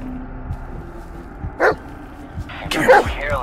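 A dog in the Blair Witch video game gives a few short barks and a whimper over a quiet ambient backdrop, the loudest yelps coming near the end.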